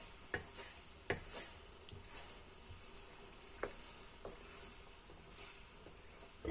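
Green curry with coconut cream is stirred in a pot, giving faint soft scraping and light bubbling with a few small clinks of the utensil against the pot, quiet and close.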